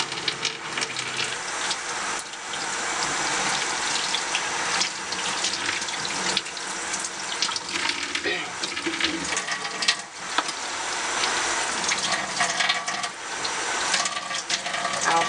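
Moderately warm water running from a tap into a sink for washing makeup brushes, a continuous splashing hiss at low volume that carries on steadily throughout.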